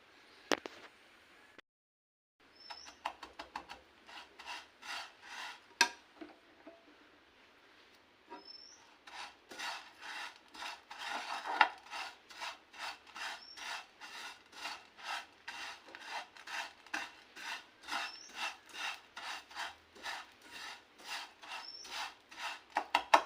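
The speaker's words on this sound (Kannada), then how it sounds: "ಇದಕ್ಕೆ ಒಂದು ಸ್ವಲ್ಪ ತುಪ್ಪ ಹಾಕ್ಬಿಟ್ಟು ನಾನು ಫ್ರೈ ಮಾಡ್ತಾ ಇದ್ದೀನಿ" Vermicelli being fried in ghee in a pan, heard as steady rhythmic scraping and rasping strokes of stirring against the pan, close and fairly loud, with no voices.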